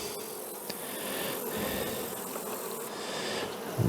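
Honey bees in an observation hive give off a dense, steady buzz that holds close and constant throughout, with no voices.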